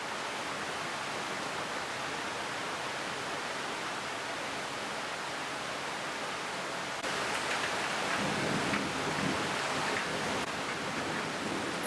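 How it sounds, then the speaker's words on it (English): Steady broadband rain hiss of an ambient thunderstorm, even and continuous, with a louder surge and a low rumble of thunder late on; no talking. "Enjoy this ambient thunderstorm reading montage."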